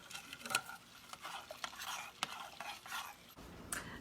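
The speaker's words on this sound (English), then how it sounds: "get a spoon and stir this up" A spoon stirs elderberry syrup in a pot, giving soft scraping and clinking strokes at an uneven pace, close by and fairly quiet, with no talking.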